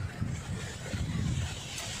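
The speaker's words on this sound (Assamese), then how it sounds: "সাগৰৰ পাৰৰ যিটো বতাহ" Sea-shore wind buffets the microphone in a low, steady rumble with small gusty swells, fairly faint and unaccompanied by speech.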